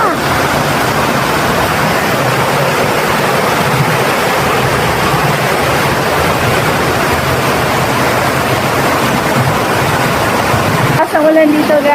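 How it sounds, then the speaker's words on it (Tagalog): Dense, continuous roar of heavy rain pouring down in Las Piñas, Metro Manila, loud and unbroken, with a brief clatter near the end. "Ayan, umulan na ulit ngayon."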